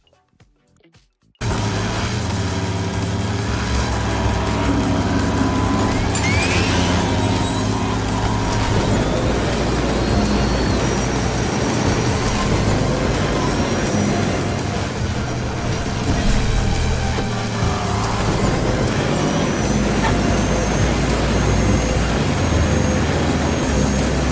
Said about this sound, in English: here's Hot Wheels Unleashed on medium settings, 1080p.